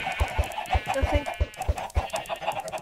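Chickens cluck repeatedly in the Minecraft video game, with a steady run of short clucks and low soft thumps close by and no talking.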